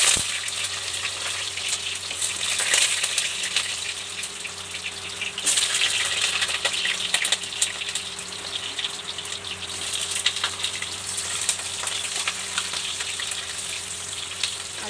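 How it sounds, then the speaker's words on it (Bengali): Cut potatoes frying in hot oil with whole cumin seeds, a continuous close sizzle with crackling bursts and occasional stirring scrapes, no voices. "আলুটা একটুখানি ভেজে নিচ্ছি।"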